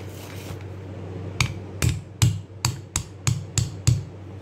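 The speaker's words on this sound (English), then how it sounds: "we fix it here and then hammer it down" Hammer blows on the blade housing of a Robot Coupe MP550 Ultra mixer during driving-shaft repair: about eight sharp metallic strikes in a quickening rhythm, close and loud over a low steady hum.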